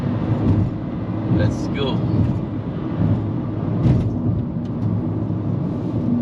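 A Proton S70 turbo engine pulls steadily uphill in third gear on the Genting hillclimb, a low, continuous rumble inside the cabin while someone talks over it.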